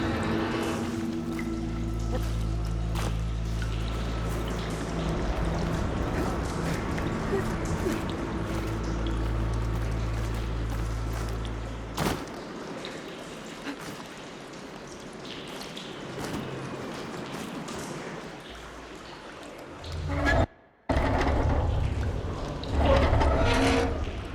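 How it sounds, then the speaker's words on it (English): In the video game Horizon Forbidden West, steady rushing water flows through pipes in a room after a valve opens, broadband and continuous, with low mechanical rumble early on and a brief dropout near the end. "Aloy, I can hear water in the room again"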